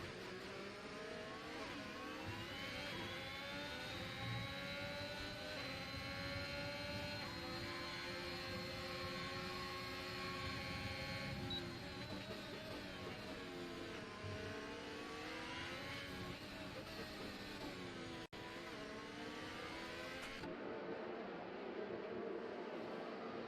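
F1 race car engines in the F1 2021 game at the British Grand Prix, heard as loud, continuous high-pitched whines that rise and fall with gear shifts as several cars race closely wheel to wheel, then cutting abruptly near the end.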